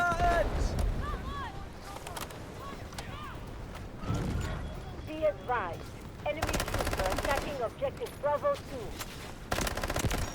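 MP7 submachine gun fired in the shooter Delta Force: repeated bursts of rapid automatic fire, loud and close, separated by short gaps, with brief voices and game noise between volleys.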